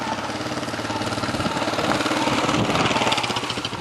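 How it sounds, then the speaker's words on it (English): A motorbike ridden past along a street in the Roman town of Bosra, Syria, its rapid chattering engine pulsing loudly and close for a few seconds. "Man on a motorbike."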